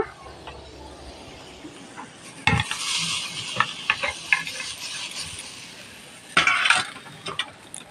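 White jute greens are stir-fried with garlic in oil in a pan, giving a soft continuous sizzle broken by sharp scraping strokes of a spatula against the pan, close up with no talking.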